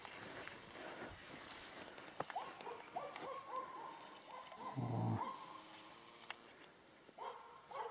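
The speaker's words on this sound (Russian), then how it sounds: "Вот Сергей Павлович выехал на прогулку со своими собачками." Several dogs on an evening walk run alongside a man riding a bicycle. Quiet pattering and clicking footsteps mix with small whimpers, yips and a short bark, all heard at a distance over faint background noise.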